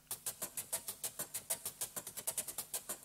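A metal chain sample gated through an Arturia MIDI filter step sequencer pulses in quick, even rhythmic bursts of bright metallic noise, about six per second, close and clean.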